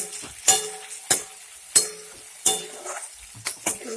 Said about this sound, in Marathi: त्याच्यात आपण आता थोडंसं धुतलेला कडीपत्ता टाकणार आहोत